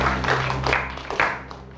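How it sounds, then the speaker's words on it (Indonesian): Short applause from a school quiz audience, a quick patter of clapping that swells briefly and fades within a couple of seconds, with some voices mixed in. "Boleh kita berikan tepuk tangan untuk Kapten yang luar biasa pula pada hari ini"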